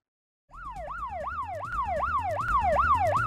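A fire engine siren starts abruptly and wails in fast rising-and-falling sweeps, loud and close, over a low engine rumble.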